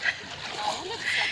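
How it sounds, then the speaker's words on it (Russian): People splashing in hot Dead Sea water outdoors, a brief wash of sloshing and splatter with voices talking over it. "Люди плещутся."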